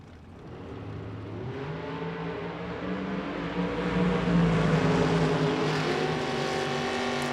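A Ford Bronco and a pickup truck drag racing in Las Vegas, engines droning and rising in pitch as they accelerate, growing louder toward the middle and holding a steady roar, with no talking.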